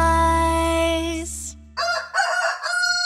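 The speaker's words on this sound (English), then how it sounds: "Close your eyes till the rooster" A rooster crows, loud and close, in a children's song about chickens: a long drawn-out call followed by a few short clucking bursts.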